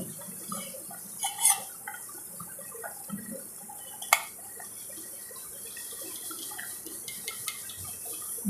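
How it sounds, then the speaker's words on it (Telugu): Salted water bubbles gently in a pot for rice rava upma, with faint pops and occasional small splashes, quiet and steady. "వాటర్ మరుగుతున్నాయండి"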